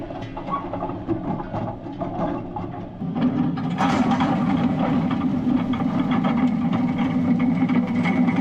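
A tractor engine drones steadily while discing a field, a heavy low rumble that grows louder and fuller partway through as the disc harrow works the ground.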